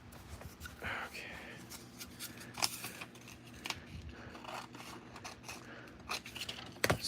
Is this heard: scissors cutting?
yes